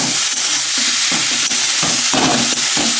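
A coconut and date-palm jaggery filling cooks in a kadai over low gas, with loud, continuous sizzling and repeated scraping stirs of a spoon against the pan.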